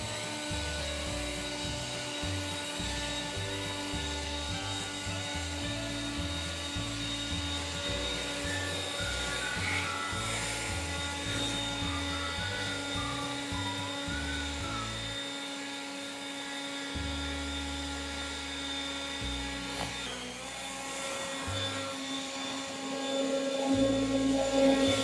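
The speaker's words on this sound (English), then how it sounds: "So this is the final outcome of Bosch Leaf Blower." A Bosch electric leaf blower runs continuously with a loud, steady motor whine and airy roar, close and unbroken, with slight changes in pitch and a brief dip partway through.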